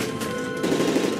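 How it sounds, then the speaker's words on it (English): Rapid machine-gun fire in the Call of Duty Modern Warfare 3 PC level aboard a hijacked plane, a steady dense burst of automatic shots that grows slightly heavier midway through. "That's gunfire! Hijackers are taking the plane!"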